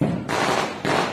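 A firecracker set off during a Diwali celebration gives two sharp, loud bursts in quick succession, close by, with no talking.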